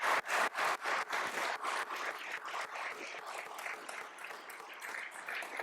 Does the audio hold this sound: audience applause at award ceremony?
yes